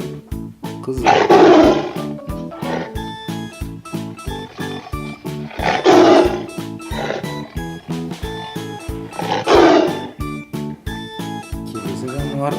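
A toy tiger gives three loud, growling roars at regular intervals over a continuous tinny electronic melody playing from the same toy.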